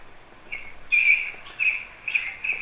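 Birds chirp outdoors on a farm property, a run of short high calls repeating in bursts at moderate distance with no talking.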